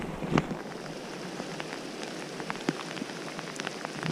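Heavy rain falls steadily on a surface at a land-based fishing spot, a dense continuous patter with scattered sharper drops and one louder knock near the start, no voices.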